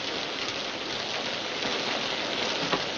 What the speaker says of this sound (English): I said the rain on the roof is lovely to hear.